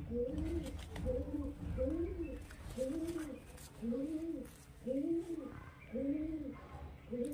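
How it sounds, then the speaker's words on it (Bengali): A male pigeon of high-flyer stock coos close by in a steady repeating rhythm, about six rounded throaty phrases, with faint background noise and no talking over it. "এই যে দেখুন, এটা নর পায়রা।"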